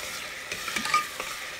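A few soft spatula scrapes and stirs of potato and cauliflower curry masala frying in a pressure cooker, faint and close, over a low steady sizzle.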